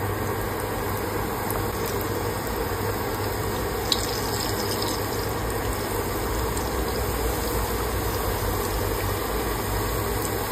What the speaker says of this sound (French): Maintenant, je vais les faire frire.